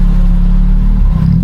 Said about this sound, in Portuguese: O escape tem um ronco estridente.